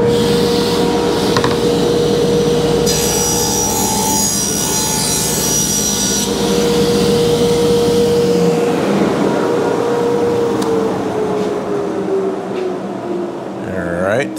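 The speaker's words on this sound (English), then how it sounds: "I'm going to just cut this quick because it's got to be parallel. So let's cut that. Get some suction going." A power saw rips through a laminate countertop inside a camper, with dust suction running alongside; a loud, steady grinding drone holds for several seconds, then the motor winds down.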